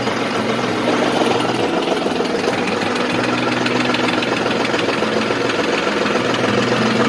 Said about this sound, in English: You can see the PTO turning down here, turning the pump.